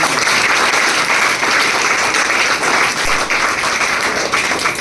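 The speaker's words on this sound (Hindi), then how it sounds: "तो जोरदार ताली हो जाए" Loud, steady applause from an audience at a coaching-class celebration in Beawar, dense clapping filling the whole stretch without a break and no talk over it.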